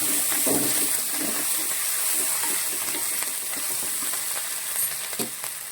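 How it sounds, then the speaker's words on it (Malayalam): A ground paste of black pepper, cumin, garlic and onion sizzles steadily in hot oil for tomato rasam, a continuous close frying hiss with a few faint stirring clicks and no talk. "നമ്മൾ കുരുമുളകും ജീരകവും അതുപോലെ തന്നെ വെളുത്തുള്ളിയും ഉള്ളിയും എല്ലാം കൂടി പേസ്റ്റ് ചെയ്തതാണ് ഈ നമ്മളിപ്പോൾ ഈ മൂപ്പിച്ചുകൊണ്ടിരിക്കുന്നത്"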